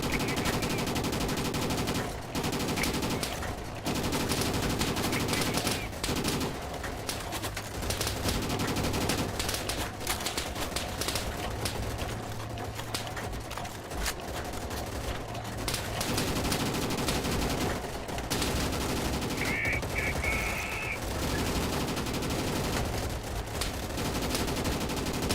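Gunfire during a counterattack in Easy Red 2, France 1940 setting: scattered rifle and machine-gun bursts cracking at irregular intervals over continuous battlefield noise, some shots near and sharp, others distant.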